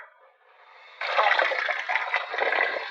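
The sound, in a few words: running water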